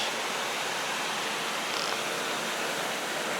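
Karaoluk Çiseli Waterfall in Ordu pours with a dense, continuous rushing roar, loud and unbroken throughout, with no voices heard.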